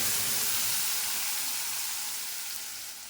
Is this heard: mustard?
yes